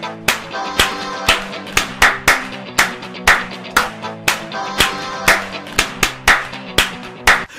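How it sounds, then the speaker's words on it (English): Loud, sharp hand claps repeat in a steady rhythm, about two per second, alone without any talking. "Clap your hands."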